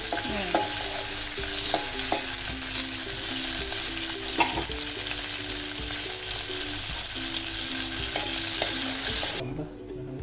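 Cashews and cardamom roasting in ghee in a pan, with steady sizzling and repeated scraping stirs throughout, close and continuous, cutting off near the end.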